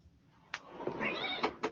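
A house cat meows once, a short rising-and-falling call at close range, framed by a couple of sharp knocks or clicks from the room.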